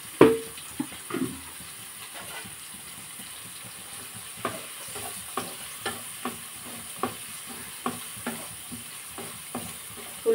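Onions fry in oil in a pan for a capsicum, tomato and egg curry, a soft steady sizzle broken by repeated light stirring scrapes at an even pace, close and quiet, with no talking.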